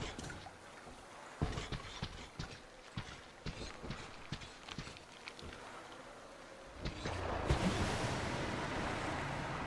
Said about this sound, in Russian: Там рыба, или кто там булькает?